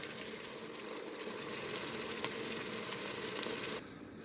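Hamburger meat and onion frying in a Ninja Foodi, a faint, steady sizzle with light crackling that cuts off abruptly near the end.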